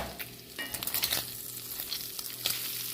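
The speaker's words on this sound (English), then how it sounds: "the bacon fat is rendering down nicely" Bacon fat renders in a pot for split pea soup, sizzling close and busy with a steady frying hiss and many quick spitting crackles and pops.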